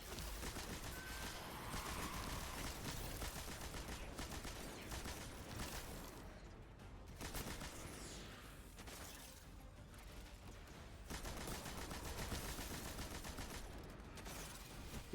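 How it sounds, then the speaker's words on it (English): Sustained machine gun fire in the shooter Destiny 2, a dense, continuous rattle with short pauses between long bursts, loud and steady across the stretch with no voices over it. "machine gun"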